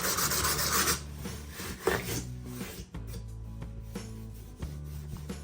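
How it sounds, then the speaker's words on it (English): Sandpaper rubs over a wooden cheese box in a close, raspy scrape that is strongest at the start and then fades into quieter, intermittent strokes, with no talking. "I'm going to take a piece of sandpaper and make sure that that's not raised."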